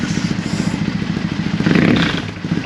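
A Triumph T100 EFI motorcycle engine with the airbox baffle removed idles close by with a rhythmic lumpy throb, swelling into a brief rev with a breathy intake rush before settling again.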